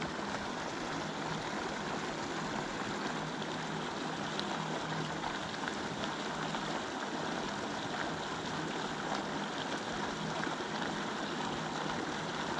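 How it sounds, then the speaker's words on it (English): A small waterfall drops into a big pool on a rain-swollen stream, giving a steady, even wash of rushing water, moderately distant and unbroken throughout. "that's where the little waterfall's dropping down at that big pool, look."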